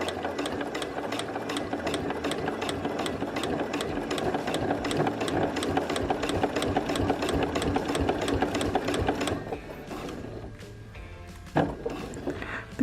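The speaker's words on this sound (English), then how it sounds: "And then I just sew as close as I can to the edge of the coaster." A sewing machine stitches close along the edge of a small quilted fabric coaster. Its rapid, even mechanical chatter runs continuously and close for most of the stretch, then drops to a quieter hum near the end.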